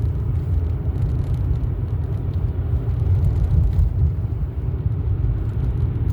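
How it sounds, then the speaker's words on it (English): An electric car drives along, heard as a steady low rumble of road and tire noise, continuous and fairly loud throughout with no engine note and no voices. "Yeah, it's an electrical car."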